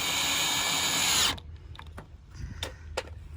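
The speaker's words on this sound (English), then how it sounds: "I'm putting stainless steel self-tappers in it" A power drill drives stainless steel self-tapping screws into a thick metal slideout frame on an Alpine RV, one loud sustained whine that stops abruptly, followed by a few faint clicks and taps.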